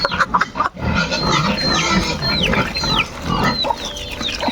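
Pig grunts and squeals at feeding time, fairly loud and close, with chirpy high calls and a busy farmyard din around them, no talking.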